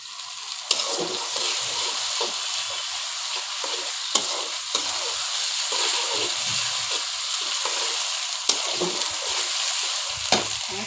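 Boiled, blended banana flower frying in a pan: a loud continuous sizzle with repeated stirring scrapes and clicks of a spatula across the whole stretch, no talking.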